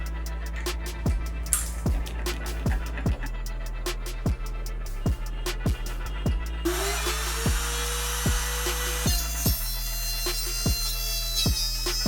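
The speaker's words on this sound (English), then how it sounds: "Let's proceed with the making cutout using the wood trimmer" A wood trimmer whines steadily while it cuts driver cutouts for a desktop speaker enclosure, punctuated by a series of sharp, regular knocking ticks throughout and a rise in high-pitched routing noise partway through.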